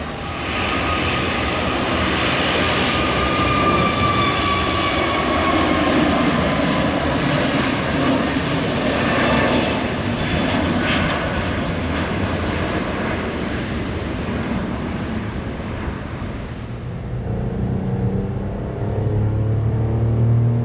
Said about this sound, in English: They are all Azores Airlines, from what I can see. That one's just getting ready to take off.